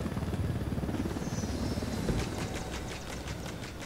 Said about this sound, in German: Fällt auch nicht auf, dass hier im Wald dann so ein Militärhubschrauber landet